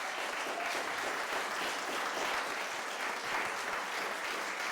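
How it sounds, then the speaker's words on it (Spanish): Church congregation applauding during a sermon, a sustained wash of many hands clapping, loud and even throughout. "denle un aplauso al Señor"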